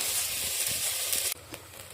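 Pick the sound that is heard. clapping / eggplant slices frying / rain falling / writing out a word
eggplant slices frying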